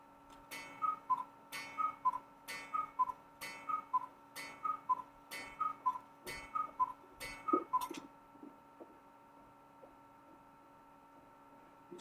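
Cuckoo clock in a classroom ticks in a steady, even rhythm for about eight seconds, each tick bright and clicky over a faint hum, then stops and leaves quiet room tone.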